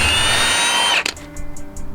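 A power tool working the first bolt off a Datsun during a rebuild, a loud, steady whine for about a second that cuts off abruptly, followed by quieter mechanical clicks and rattles.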